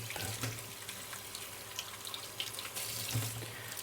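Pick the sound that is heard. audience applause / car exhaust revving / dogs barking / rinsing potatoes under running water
rinsing potatoes under running water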